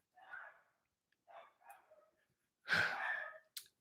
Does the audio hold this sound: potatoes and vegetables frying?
no